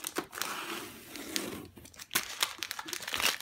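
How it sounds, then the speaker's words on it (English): Transfer tape peeled back from a racing stripe decal being installed on a Can-Am Spyder F3 T&L Le Mans cowl, heard as close crinkling, crackling peeling noises in several bursts with brief pauses. "peel back our transfer tape."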